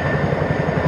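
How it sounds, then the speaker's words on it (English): A British Army helicopter close by, its engine whining steadily under a loud, fast, pulsing chop of the rotor blades. "Look at the size of that helicopter then."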